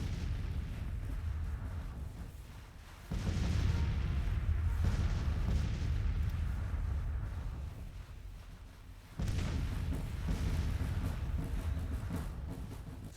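Massed musket and artillery fire from troops firing at will in a Civil War strategy game, with rolling booms and crackling volleys in two heavy loud bursts that fade between them.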